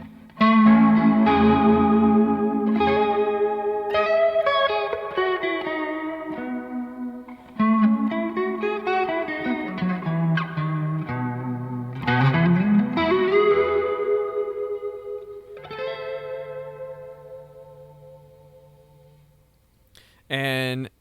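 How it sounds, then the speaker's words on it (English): An electric guitar run through a hall reverb pedal on a gig pedalboard, with sustained chords and melodic runs that ring out in long, spacious tails and fade near the end, loud and close. "this is just a hall reverb"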